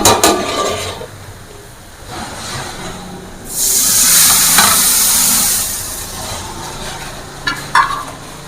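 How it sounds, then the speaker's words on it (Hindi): Hot tempering oil poured into lentil dal for mutton dal gosht, bursting into a loud, close sizzle and hiss that swells midway, then settles back with softer stirring sounds. "तड़का तैयार हो चुका है, इसको डालेंगे दाल के अंदर।"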